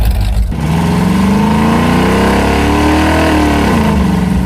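Rear-engine mini truck, its carburetor just repaired, revving steadily for several seconds with rising and falling engine pitch, loud and close, no talking.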